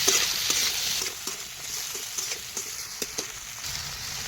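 Chopped tomatoes with ginger sizzle in a pan as a spatula stirs and taps repeatedly, with a steady close frying hiss under the irregular scraping strokes.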